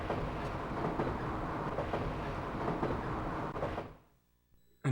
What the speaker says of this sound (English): And now we're on a ghost train.